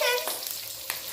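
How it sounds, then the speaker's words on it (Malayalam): Mustard seeds sizzle in hot oil in a pan, a steady close frying hiss broken by a couple of sharp pops. "കടുക് പൊട്ടിത്തെറിക്കുകയാണ്."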